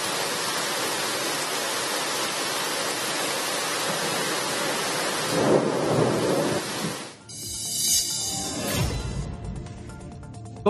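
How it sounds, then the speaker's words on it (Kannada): Heavy thunderstorm rain pours steadily in Yadgir, Karnataka, a dense loud roar with a deep rumble of thunder midway, the downpour continuing alone without voices. "ಯಾದಗಿರಿಯಲ್ಲಿ ಗುಡುಗು ಮಿಂಚು ಮಿಶ್ರಿತ ಬಿರುಗಾಳಿ ಸಹಿತ ಭಾರಿ ಮಳೆಯಾಗಿದೆ"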